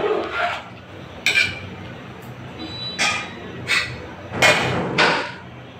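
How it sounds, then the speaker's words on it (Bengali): Rice being stirred into khichuri in a metal cooking pot, a series of sharp clinks and scrapes of a spoon against the pot, about six distinct strikes spaced unevenly, close and clear. "এবার এর মধ্যে চাল দিয়ে দিলাম। একটু ঘুরানাড়া করে নেব।"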